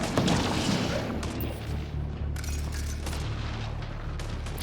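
Enemy gunfire and booming impacts in the sci-fi shooter Mass Effect Andromeda, a continuous rumbling barrage of shots and blasts at moderate loudness.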